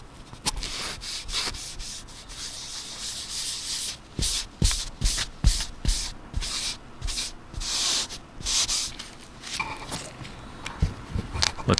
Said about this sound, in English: I'm going to remove as much of that material as possible with a microfiber cloth